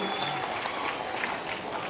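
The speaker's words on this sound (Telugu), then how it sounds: "గట్టిగా చప్పట్లు కొట్టి అభినందించండి" An audience at an outdoor public welfare meeting in Jammalamadugu applauds in a brief, dense burst of clapping, loud and steady throughout.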